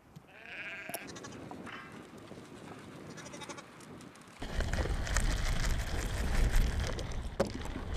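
A flock of sheep on the windy Faroese island of Suduroy bleats in scattered calls, first quietly, then joined by a louder rush of wind or rain noise halfway through.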